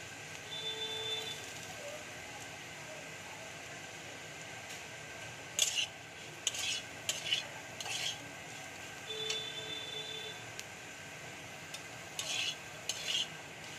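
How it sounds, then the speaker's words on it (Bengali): Cauliflower and potato frying quietly in a pan while a spatula scrapes and clinks against the metal in short, irregular bursts. "ফুলকপি আলুটা দেখো আমার হালকা করে ভাজা হয়ে গেছে, এবার আমি নুন আর হলুদ দিয়ে দিচ্ছি"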